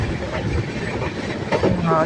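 The Deccan Express runs fast on the rails, a steady close rumble with rattling wheel noise heard from on board, and a voice speaks briefly over it.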